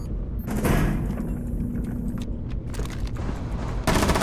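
Gunfire in the video game Rainbow Six Siege, a loud continuous barrage of rapid shots and booms that carries on for several seconds.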